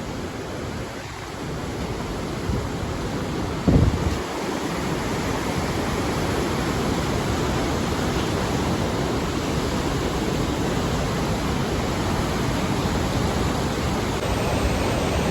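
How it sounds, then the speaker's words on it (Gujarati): The Kedar Ganga river rushing near Gangotri in the Himalayas, a dense continuous roar of fast water filling the scene evenly, with a brief bump of handling noise early on and no talking. "તો મિત્રો આ નદી છે કેદાર ગંગા"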